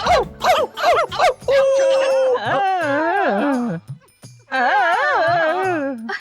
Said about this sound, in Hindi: ये कौन सा कुत्ता है जो अजीब तरीके से भौंक रहा है?